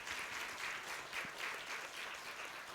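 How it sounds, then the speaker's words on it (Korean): A church congregation at a Sunday morning service claps to encourage a newly married couple, a soft, continuous patter of applause heard from some distance, swelling slightly in waves. "우리 박수로 한번 격려하겠습니다"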